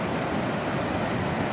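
Surf at Cannon Beach, Oregon makes a steady broadband wash of waves mixed with wind noise, with no voices.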